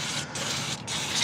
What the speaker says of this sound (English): we do need to spray up in here and just make sure that that's nice and clean